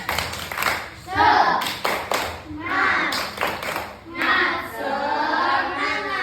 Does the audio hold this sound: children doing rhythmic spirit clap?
yes